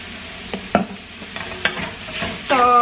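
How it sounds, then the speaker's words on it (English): Zucchini noodles sauté in a pan with black pepper and parsley: utensil scrapes and taps stir them over a soft sizzle, with a few distinct knocks and a brighter clatter near the end, without any voices. "So we're just gonna let that saute"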